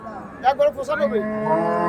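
A cow at a cattle market lets out a close, loud moo that starts with a few choppy pulses and then settles into a sustained low, droning call that lasts to the end, with crowd murmur behind it.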